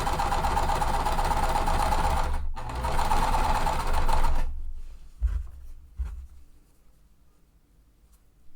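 A sewing machine runs in two steady bursts as it stitches fabric triangles for a lemonade quilt block, pausing briefly between runs, then stops and gives way to a few light handling clicks.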